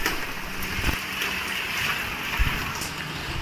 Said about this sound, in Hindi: तो आओ आइए और नहाइए, बारिश का मजा लीजिए।